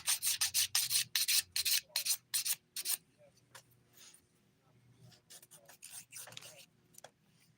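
A 180-grit nail file rasps across fingernails in quick, loud back-and-forth strokes, then continues in softer, lighter passes during a manicure.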